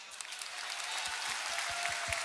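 Audience at an Argentine freestyle rap battle (FMS Argentina) applauding in a steady, fairly quiet wash of clapping, with a few sharper claps standing out throughout.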